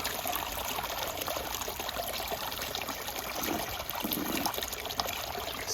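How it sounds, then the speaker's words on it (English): Water conditioner poured down a koi pond waterfall in Minnesota in spring, a steady close trickling and splashing of water that continues throughout without pause. "All right, we'll just pour that right down the waterfall."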